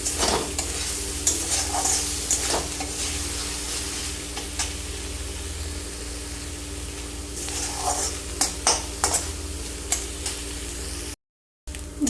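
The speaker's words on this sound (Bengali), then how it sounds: "দেখতেই পাচ্ছ ভর্তাটা পুরো লাল লাল করে ভেজে নিয়েছি" Cabbage bharta frying in a pan, with a continuous sizzle and hiss punctuated by scraping stirs of a spatula, fairly close and steady, broken by a brief gap near the end.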